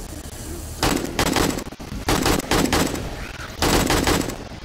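Bursts of automatic gunfire from a turret in 7 Days to Die during a horde night, three loud rapid volleys separated by short lulls.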